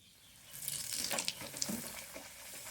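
Puri fries in hot oil, a soft sizzle that swells into hissing, bubbling bursts with a few sharp pops, then settles back to a quieter crackle.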